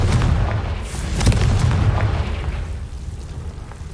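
A Confringo fire spell exploding in the Hogwarts Legacy video game, a loud, heavy boom with a sharp burst around the middle followed by a rumbling tail that gradually fades.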